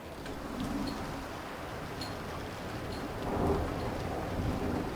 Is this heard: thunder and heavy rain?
yes